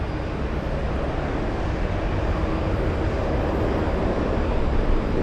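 A Japan Airlines Boeing 787 taxis toward the runway at Boston Logan International Airport, giving a steady, loud, broadband jet engine rumble that holds evenly throughout with no talk.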